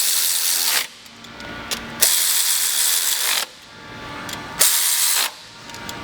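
A ratchet tightening bolts on a Subaru turbo inlet, several runs of close, crisp clicking pawl strokes broken by short pauses, loud and up front with no voices.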